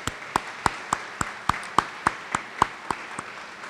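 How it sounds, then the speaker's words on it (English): A round of applause from the audience at a school recognition ceremony held by the Mayor of Rochester, heard as a thin, moderate patter of handclaps at fairly regular beats, with no one talking over it. "I'm going to give him a round of applause"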